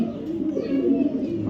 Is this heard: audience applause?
no